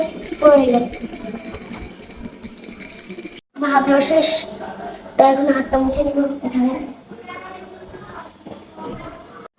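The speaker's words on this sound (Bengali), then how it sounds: "তাই হাতটা ধুয়ে নিচ্ছি ভালো করে" Hands are rinsed under a running tap at home in the morning, with bursts of splashing water and light clinks of dishes while someone talks.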